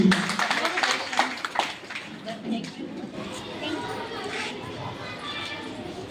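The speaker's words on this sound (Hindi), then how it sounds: "जोरदार तालियां हो जाए सक्षम के लिए।" A school parent-teacher meeting applauds the first-rank student with a patter of scattered hand claps. A voice speaks at the start, and chatter runs under the clapping throughout.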